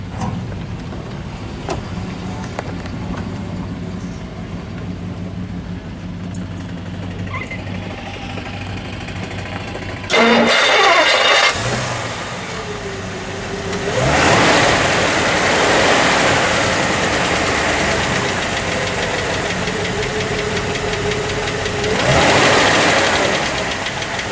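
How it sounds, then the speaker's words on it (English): A 1956 Dodge Custom Royal Lancer V8 engine idles with a steady low rumble for a long stretch, swelling louder midway and again near the end, recorded nearby. "Listen to the idle."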